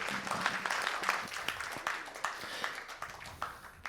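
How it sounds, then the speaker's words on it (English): Scattered audience applause at a conference talk, individual claps audible within a moderate, uneven round that holds for a few seconds. "let's have a big round of applause"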